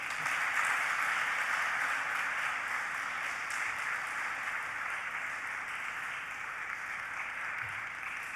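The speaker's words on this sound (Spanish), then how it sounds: "para quien pedimos un fuerte aplauso." Audience at a Hanukkah event in Toledo applauds before a musical performance, steady dense clapping from a crowd that continues evenly for several seconds, fairly distant and moderately quiet.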